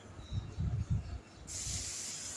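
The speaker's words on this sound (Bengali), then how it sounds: "রুই মাছটাকে হলুদ মরিচ দিয়ে মাখিয়ে নিলাম, নিয়ে তেলে ফ্রাই করে নিলাম" Rohu fish marinated with turmeric and chili fries in oil with a quiet, steady hiss that brightens into stronger sizzling partway through, over a few soft low knocks.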